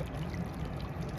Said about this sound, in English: bubbling water is coming up from the ground